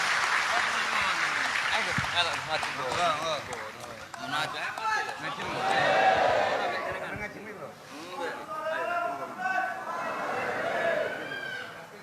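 Crowd at a religious gathering on stage clapping in waves, the applause rising and falling under someone speaking and some chuckling.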